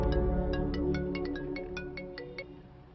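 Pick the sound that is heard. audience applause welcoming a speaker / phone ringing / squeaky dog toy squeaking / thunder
phone ringing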